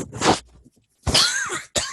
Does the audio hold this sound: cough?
yes